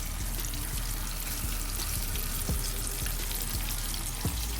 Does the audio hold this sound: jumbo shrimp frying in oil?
yes